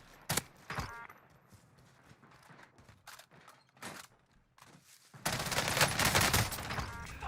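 Video game shootout: bursts of loud, close gunfire and scattered single shots, ending in a sustained heavy fusillade.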